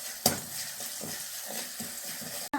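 Asafoetida, turmeric and salt being stirred into a raw mango rice mix in a pan, a steady soft scraping and sizzling with a sharp clink near the start and a clatter at the end.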